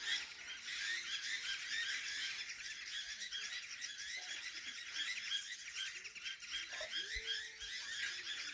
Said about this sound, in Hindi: अलग अलग पक्षी एक साथ चहचहा रहे हैं